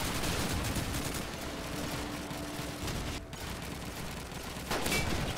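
Continuous bursts of rifle and machine-gun fire in a Call of Duty 2 multiplayer match, a loud dense rattle that barely lets up, with a short gap before firing resumes.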